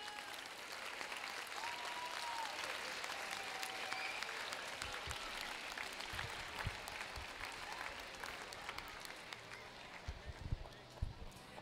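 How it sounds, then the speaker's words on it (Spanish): Audience applause at a school's 27th anniversary ceremony, steady broadband clapping sustained across the hall and tapering near the end, with a voice talking over it. "Vamos a darle un gran aplauso a todos los homenajeados del día de hoy."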